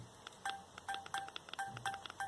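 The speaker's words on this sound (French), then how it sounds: "on a des boutons en bas, qui se rétroéclairent, mais ils sont pas tactiles. Il faut appuyer." Keypad tones from pressed buttons on a counterfeit Galaxy S4 phone: about eight short, evenly spaced beeps, crisp and close, with faint handling noise between presses.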